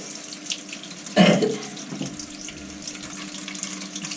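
Shower water pours over a dog being bathed, a steady spray with a sharp splash burst as it hits her head.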